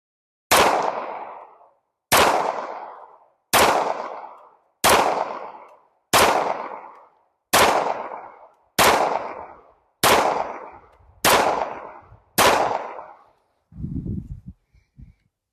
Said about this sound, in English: Let's shoot 10 shots, and we'll see what it can do.